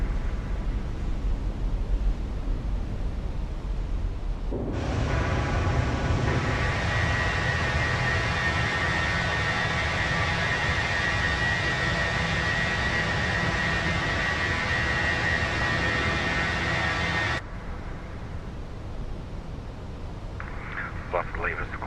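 Airliner engines on an A321-200 in Microsoft Flight Simulator roar loud and steady during the climb after takeoff, with a sustained broadband rush that cuts down abruptly near the end while a voice talks over it.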